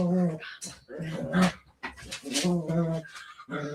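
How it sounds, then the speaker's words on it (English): Dogs playing at a person's feet indoors, giving repeated high whimpers and whines in short bursts with brief gaps, close and fairly loud. "it's my dog, man. They're going at it at my feet"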